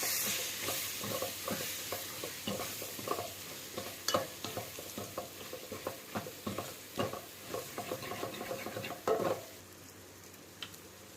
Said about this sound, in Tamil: மசாலாலாம் இப்போ சேர்த்தாச்சு. இப்போ நல்லா வதக்கிக்கோங்க.